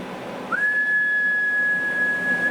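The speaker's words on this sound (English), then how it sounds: "about 120 something average on a whistle" A single steady whistle is blown into a CB radio microphone on a big rig setup with a Galaxy DX98VHP radio, held as one clear, loud, unbroken tone for about two seconds.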